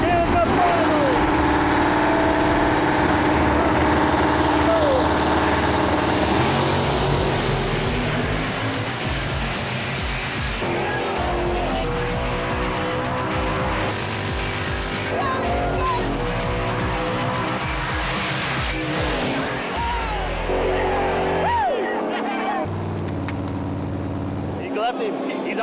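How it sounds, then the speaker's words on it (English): A big block 440 Duster and a 600 hp Camaro drag racing, engines roaring loud and continuous with revving swells, under a commentator's voice for most of the stretch. "Mike Gromzinski's big block 440 Duster is itching to stomp on another Chevy, while Tom Risotto's 600 horsepower Camaro is out to skin its second Mopar"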